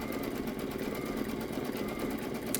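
An embroidery machine stitches an outline around a suitcase motif on a luggage tag, giving a steady, continuous mechanical whir with a fast rapid beat, close and moderately loud, no voices.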